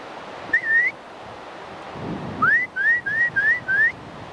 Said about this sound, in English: What if I whistle?